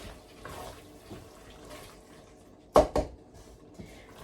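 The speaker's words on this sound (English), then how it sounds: "I'll give it a stir." Spoon stirring a salted pot of food on the stove, with soft wet sloshing and two sharp clinks of metal against the pot midway and quieter scraping around them.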